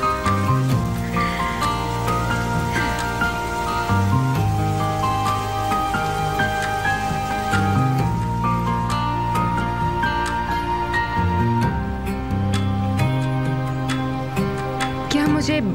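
Steady rain patters throughout, mixed with a sustained tonal, music-like layer that stays prominent beneath it.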